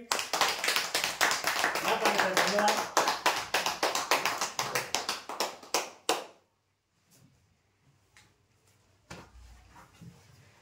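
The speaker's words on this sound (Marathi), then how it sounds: "अजून एकदा जोरदार टाळ्या होत्या आमच्या पांडे साहेबांसाठी." Applause for Pande Saheb at a weekly customer prize draw: a dense burst of many hands clapping for about six seconds, loud and close, breaking off abruptly into near silence with a few faint taps afterward.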